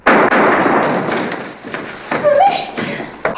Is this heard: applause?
no